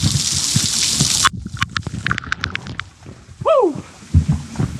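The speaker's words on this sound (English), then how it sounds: "a few waterfalls to get through" A waterfall on the Bica da Cana trail on Madeira: a steady rushing gush of water that breaks off suddenly, then gives way to scattered clicks, a short whistling chirp and renewed rumbling outdoor noise.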